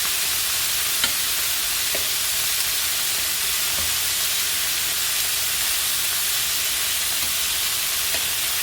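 Meat browning in a hot frying pan gives a steady, loud sizzle and hiss with a few faint clicks, heard alone and close up with no talking.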